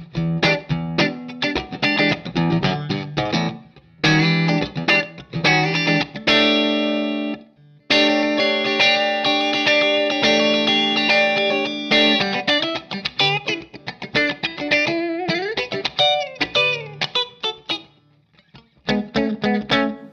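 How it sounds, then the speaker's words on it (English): Telecaster electric guitar through a Jackson Ampworks NewCastle amp plays mildly driven chords and single-note phrases, with short gaps between loud passages and no talking. "Telecaster through the NewCastle."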